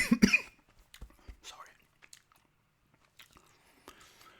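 A short cough bursts out right at the start, followed by quieter throat clearing and gum chewing sounds that fade into near silence. It comes after gum juice went down the wrong pipe during a close-miked chewing session.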